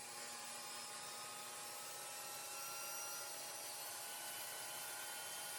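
Power saw cutting a 22.5 degree bevel in walnut stock for a V-shaped table base, a steady, even whirring drone that holds its level throughout with no pauses.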